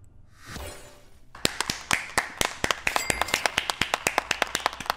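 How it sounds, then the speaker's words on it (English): A round of hand clapping starts after a short rustle, with sharp, fairly steady claps continuing close up for several seconds. "Clap it up, ladies and gentlemen."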